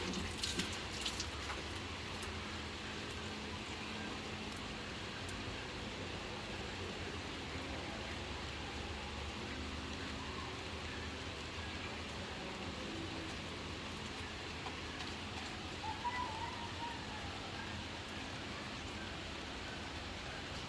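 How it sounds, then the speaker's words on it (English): Steady rain hisses evenly over a beach house construction site in the Philippines, a soft constant wash with occasional faint drips and knocks, no voices. "Raining again"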